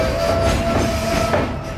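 Freight train cars slam into one another as a train powered from one end comes to a stop, loud close clanks and knocks over a continuous rumbling hum and a thin metallic whine.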